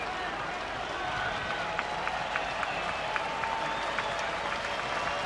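White Sox fans at U.S. Cellular Field cheer and clap during a Braves game, with a broad steady roar of crowd applause, sharp claps scattered through it, and a commentator talking over the top.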